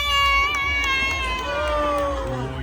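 A live audience cheers and shouts together, with a sustained crowd roar and voices rising above it.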